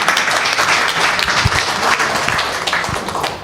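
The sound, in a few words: audience applause welcoming a speaker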